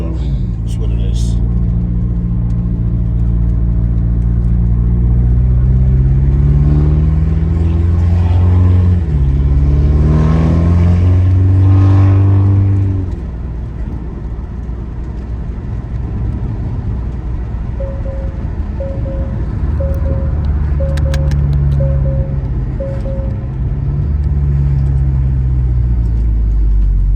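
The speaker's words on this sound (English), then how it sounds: "Car warms up, it actually gives you those pops like the Type S." A 2022 Acura TLX 2.0 engine with straight-pipe downpipe and muffler delete revs up in several rising roars with a deep, rumbling exhaust, then settles to a throaty idle while a short series of beeps chimes.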